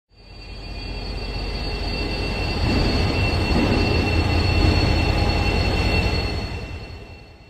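An Irish Rail 071 class locomotive, number 071, pulls into platform 4 at Connolly Station in Dublin. A deep engine rumble swells and then fades, with a high wheel squeal carrying through the whole pass and no talking.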